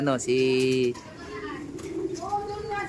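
Breeder pigeons, including a black check bird, coo near the loft with a sustained low cooing call at the start, followed by softer fluttering and background bird calls while someone talks over them.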